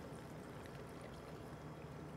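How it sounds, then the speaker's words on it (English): Dark rum poured into a cocktail shaker over ice, a steady continuous splashing stream that runs close and fairly quiet throughout with no talk. "Nice 2 ounce pour of dark rum."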